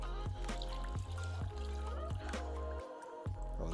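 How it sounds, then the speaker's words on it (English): Water pours into a thick ginger soda concentrate, a close gurgling and glugging stream with rhythmic bubbling pulses over a few seconds. "just add the water."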